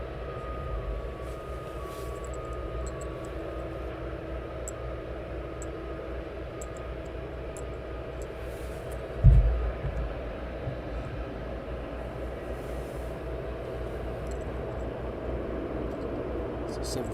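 An aircraft arrives at East Midlands Airport at night, a faint, steady low rumble and hum lying under quiet background noise, with one short dull thump midway.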